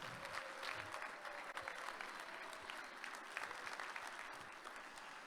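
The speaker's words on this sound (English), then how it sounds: "A big round of applause for them." Sustained applause from a large conference audience, steady and fairly distant, filling the whole stretch without a break.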